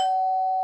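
A cartoon doorbell-like tone rings out as one clean, steady sustained pitch, loud and alone, lasting under a second before cutting off.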